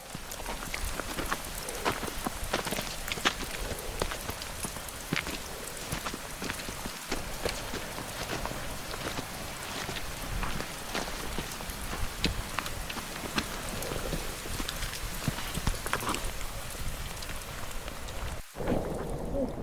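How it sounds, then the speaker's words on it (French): Steady rain drums on the roof of a mountain refuge during a family trek in the Clarée valley. The close, dense patter runs unbroken from start to finish with no voices. "pendant que la pluie tambourine sur le toit"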